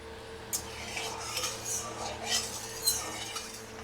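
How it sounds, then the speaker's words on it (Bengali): Katla fish pieces are flipped as they fry in oil in a kadai, with close metal clinks and scrapes of a utensil against the pan and a faint low hum underneath. "হালকা করে ভাজা হয়ে গেছে, মাছগুলোকে উল্টে দিলাম"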